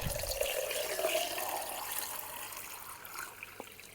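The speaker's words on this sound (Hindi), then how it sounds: "ये जग है मेरा, मैं इसमें डाल रही हूँ ये पानी को।" Water pours from a container into a jug at home, a continuous splashing, gurgling stream heard close and fairly quiet, steady throughout with no speech.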